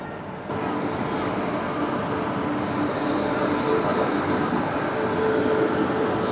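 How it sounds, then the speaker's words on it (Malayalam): A Patna-bound superfast express train passes on the opposite track in India, a steady, dense rushing roar of wheels and carriages. It stays loud and unbroken throughout with no voices. "Meanwhile opposite സൈഡിലൊരു Patna super fast വരുന്നുണ്ട്."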